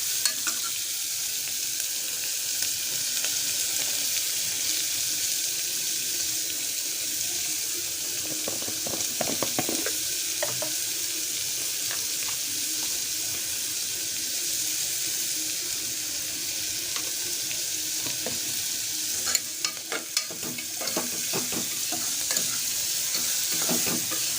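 Chopped onion sautéing in a pan with a little salt for a potato and cluster bean bhaji, a steady close sizzle running throughout with occasional scrapes and stirs, no voices.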